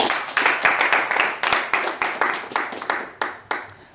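People clap steadily in acclaim of the Lord, with sharp, regular hand claps that are loud and close, repeating for several seconds.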